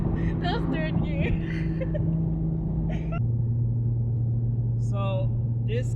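A Toyota A90 Supra fitted with a catless VRSF downpipe drones with a steady, deep exhaust note that drops in pitch partway through as it shifts, heard from inside with people talking over it.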